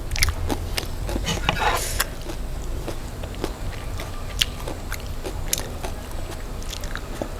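Close-up crunchy chewing and biting of a spicy salmon salad with dried chili, a run of irregular wet crunches and smacks at mouth level, with no talk.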